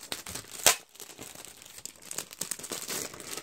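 Close, loud crinkling of plastic wrapping being torn open, with a sharp rip early on followed by steady rustling and crackling.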